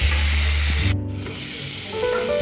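Salted potato pieces frying in oil in a pan with a lid make a loud, close sizzle. It softens sharply for a moment partway through, then carries on at a steady hiss.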